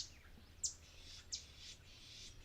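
A catbird, a mimic related to mockingbirds, sings faint, thin chirping phrases outdoors, with two brief brighter notes standing out over a steady low background hum.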